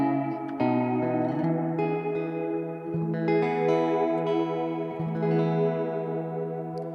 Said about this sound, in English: So we have the feedback or the decay of the reverb